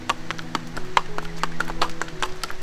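A horse's hooves clip-clop in a quick, even rhythm of sharp close knocks over a steady low hum. A faint voice can be heard in the background.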